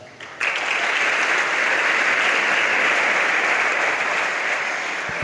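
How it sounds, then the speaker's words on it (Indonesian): A large crowd of young male Islamic boarding school students bursts into loud applause, a sudden start followed by a dense, sustained roar of clapping held steady throughout. "berikan tepuk tangan antum untuk Nusantara."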